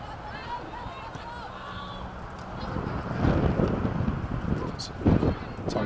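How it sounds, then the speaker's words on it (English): Wind buffeting the microphone at an outdoor women's college soccer match, Trinity University against Schreiner, a low rumbling gusty roar that swells midway and stays steady, with faint distant activity beneath. "Talked earlier about how windy it was. Kind of hear that now in the background."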